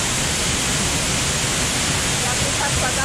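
Ashgill Force waterfall near Alston, a loud steady broadband roar of falling water filling the whole scene without pause.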